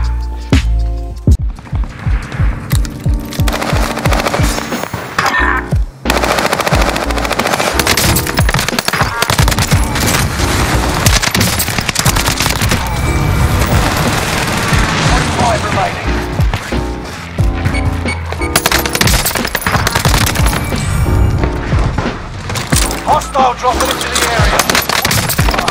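Gunfire in Call of Duty Warzone on Rebirth Island: loud, dense bursts of automatic weapon fire and rapid shots, nearly continuous and close, with game sounds and speech mixed in.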